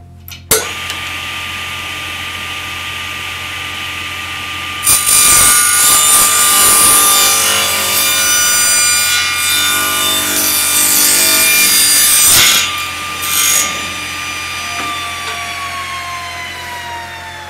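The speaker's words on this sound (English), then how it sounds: "That saw blade was freshly sharpened, by the way, so it went well." Freshly sharpened hand saw cutting through wood on a workbench, a loud, steady rasping stroke that continues for many seconds and then stops, with the blade ringing close by and no one talking.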